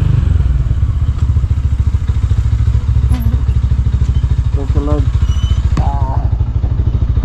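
A motorcycle engine drones steadily and loudly throughout, with a rider's voice speaking briefly over the ride.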